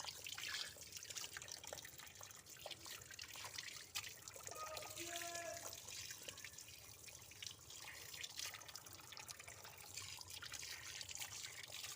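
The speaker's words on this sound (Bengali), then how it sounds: "ধুয়ে নিই ভালো করে মাছগুলো" Small fish are washed under a running tap, a continuous trickle and splash of water in a sink with faint handling sounds beneath it.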